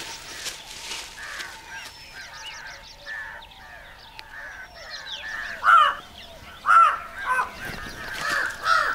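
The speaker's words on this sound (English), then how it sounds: "A jungle crow sharpens its beak, just in case." Jungle crows cawing in a forest where tigers feed, a series of harsh caws from several birds, some distant and others loud and close, rising toward the end.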